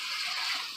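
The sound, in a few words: water running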